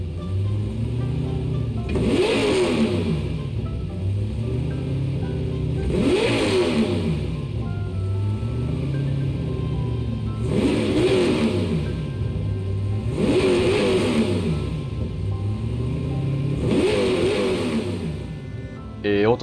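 The engine of a modified Toyota HiAce van with an 8,000cc engine in Gran Turismo 7 revs repeatedly in a regular cycle, pitch rising and falling about every four seconds, loud and close, with a faint voice at times.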